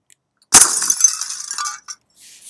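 Simulated glass shattering as a bullet strikes a pane in Blender Game Engine: a sudden loud crash followed by about a second of tinkling, scattering shards, then a short clink and faint residue, with no talking.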